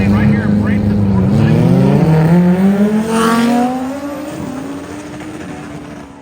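Two cars launch side by side in a roll race at a drag event, one a boosted car and the other an Audi, engines roaring loudly as they accelerate and shift upward, then fading as they pull away, with an announcer talking over them.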